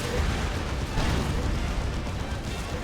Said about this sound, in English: Demolisher Cannon Shot does knock over the Knobs.